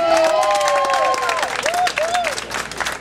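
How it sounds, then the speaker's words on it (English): Crowd applause at an outdoor NYCHA family day at 120 West 94th Street in New York City: steady clapping from a gathered group with some cheering, and a voice calling out over it. "Let's give her a round of applause"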